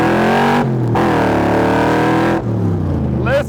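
A 1965 Shelby Cobra replica on a speed run roars loudly up through the gears, its engine note climbing, dropping sharply at each shift and rising again, close and dominant throughout.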